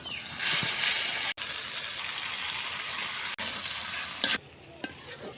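Spice paste with salt and cumin frying in a pan during village cooking of beef with tender stems, a close, continuous sizzle with stirring scrapes that briefly break off and fade near the end.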